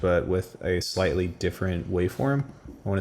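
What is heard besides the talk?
No distinct noise like a dog, phone or traffic.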